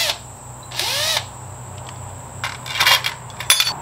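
A power tool drives a fastener on a bracket being reinstalled on a 2008 Harley-Davidson Night Train motorcycle, with one loud whirring burst that rises and falls in pitch, then several shorter clicks and buzzes up close.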